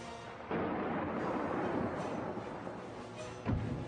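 A lightning strike with thunder in a storm, a sudden loud deep rumble that rolls on for several seconds, then a second sharp boom near the end.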